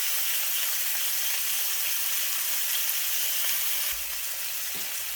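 Pork tenderloin searing in a hot pan, giving a loud, steady, dense sizzle that holds unbroken throughout, with a slight drop in intensity near the end.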